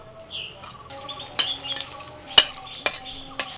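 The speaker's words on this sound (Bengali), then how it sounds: "প্রথমে ভেজে নিচ্ছি শুকনো লঙ্কা" Dried red chillies frying in a pan, a light crackle under repeated spatula scrapes and clinks against the metal, with a bird faintly chirping in the background.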